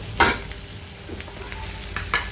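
Chopped capsicum and onion hitting a hot pan, a short burst of sizzle followed by steady frying hiss and a couple of stirring scrapes.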